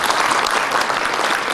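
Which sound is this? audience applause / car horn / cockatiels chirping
audience applause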